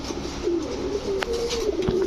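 Giribaz high-flyer pigeons in a loft, including a green-necked male, give soft, steady cooing that runs through the whole moment at close range, with a few brief sharp clicks and no talking.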